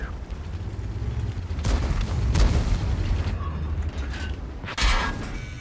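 Tank guns firing in World of Tanks, a heavy T110E5-type battle: booming cannon shots and impacts ring out over a continuous low rumble of engines, with a couple of louder blasts standing out near and fairly loud.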